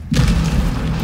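Rocket launcher blast in the Resident Evil 3 Remake video game: a single loud, deep boom that hits suddenly after a brief silence, then rumbles on heavily for about a second with no voices.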